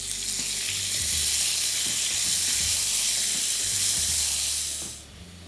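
Finely chopped onion and tomato sizzle steadily in a hot pan for a bhindi rassa curry, a loud, continuous bright hiss of frying with faint stirring knocks, no voices, easing off slightly at the end.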